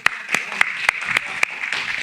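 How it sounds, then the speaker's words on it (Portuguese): Rhythmic clapping during a church service: about eight sharp, evenly spaced claps in unison over a sustained tone, with voices in the background. "Vamos dar salva de palmas pro Flávio?"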